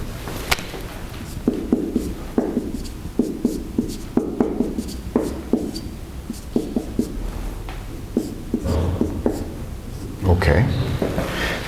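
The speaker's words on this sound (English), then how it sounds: "Let me write this bigger." Writing on a board during a university lecture: a series of short scraping and tapping strokes come in quick clusters with brief pauses, fairly close and moderately loud, while a voice talks faintly at times.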